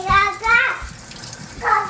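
Cold tap water runs over freshly trimmed morel mushrooms as they are rinsed, a steady splashing stream with a voice sounding briefly over it.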